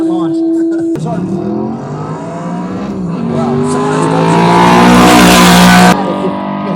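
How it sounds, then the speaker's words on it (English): A drag-race car's exhaust roars hard at launch, loud and close, rising in pitch as it accelerates before cutting off abruptly at a speed festival with airshow and car show. "That exhaust, it is just ripping."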